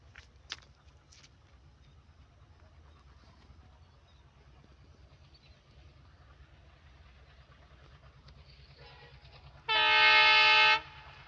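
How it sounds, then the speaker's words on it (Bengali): A train approaches on a railway line at night: a quiet low rumble builds for several seconds, then a loud, sustained horn blares for about a second near the end. "আর অন্ধকারে আর এখন ট্রেন আসছে, অপেক্ষা করার পরে আর ট্রেনটা এখন আসবে"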